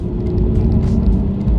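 A car engine rumbles steadily from inside the moving car, a low continuous drone with road noise.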